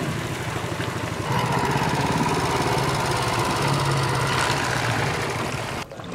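A steady, droning boat motor runs continuously at close range on a river near Luang Prabang, Laos, a low chugging rumble with a faint rattling edge and no voices.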